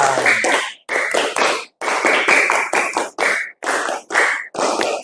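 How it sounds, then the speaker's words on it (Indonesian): A group claps a scout clapping pattern (tepuk pramuka) twice in a row, loud, close, sharp rhythmic bursts of quick claps separated by short pauses. "2 kali tepuk pramuka"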